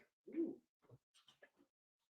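A bird calls during a conga rhythm-circle session: one low, soft coo-like note followed by a few short, quieter chirps, fairly faint and set against near silence.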